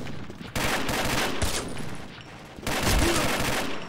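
Bursts of video game gunfire crackle through a chaotic firefight, loud and dense in two stretches with a short lull between, under a busy background.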